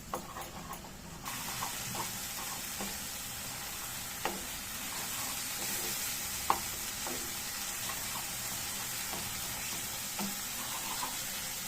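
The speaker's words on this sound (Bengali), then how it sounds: "মশলাগুলো আস্তে আস্তে ডিমে আছে, গ্যাস কমিয়ে কষতে হবে" Spice paste sautéing over low gas for a prawn curry, a steady dense sizzle throughout with occasional light stirring taps and scrapes.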